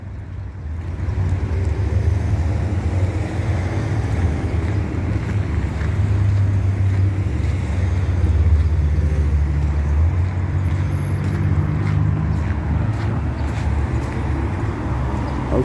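Cars driving past on a New York City street in Queens, forming a loud, continuous low rumble of traffic with wind buffeting the microphone throughout.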